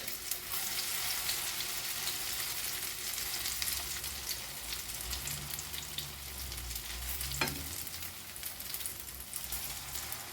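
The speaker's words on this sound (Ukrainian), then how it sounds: "З одної сторони вже підсмажилися, перевертаю на другу. Зроблю менший огоньок, щоб до готовності досмажити їх." Zucchini slices fry in a pan, giving a steady close sizzle with soft crackle and a faint low rumble underneath throughout, with no voices.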